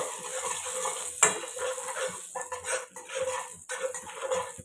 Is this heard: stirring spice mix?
yes